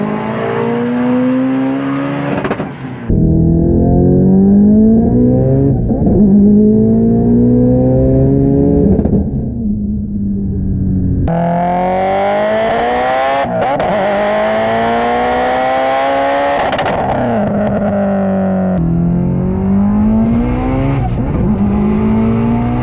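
An 850 HP Subaru STI with a 2JZ engine swap, running 42 psi of boost on a dyno, revs hard through rising pulls with abrupt drops between them, a loud, close, sustained engine roar with no voices.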